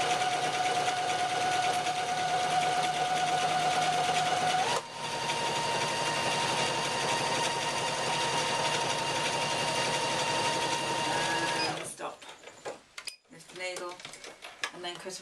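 A sewing machine stitches a handbag, a steady close mechanical whir that runs for about twelve seconds with a brief change in pitch partway through, then stops, leaving faint handling clatter and quiet movements.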